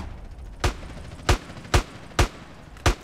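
Gunfire from a gun in the video game GTA San Andreas: five sharp, loud shots at a steady, slightly uneven pace, each about half a second apart, with no talking.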